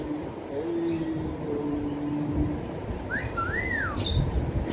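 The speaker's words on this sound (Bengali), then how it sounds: "ছোটখাটো পাখির খামার।" Small pet birds such as lovebirds chirp at a backyard bird farm, with scattered high tweets and a couple of rising whistled calls over a steady low background hum.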